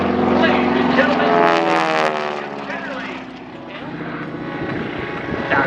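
A North American SNJ-6 Texan propeller plane flying aerobatics at an airshow, its radial engine droning loudly with shifting pitch as it powers up and climbs, an announcer talking over the engine.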